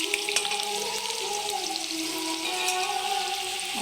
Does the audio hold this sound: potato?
yes